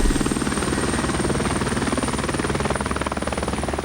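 A police helicopter's rotor chops steadily overhead, a loud continuous thudding with a high engine whine, no voices.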